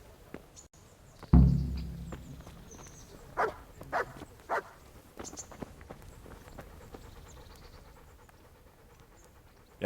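A dog pants in the video game Kingdom Come Deliverance, opening with one loud, close huff followed by a few softer, quick breathy bursts over a quiet background.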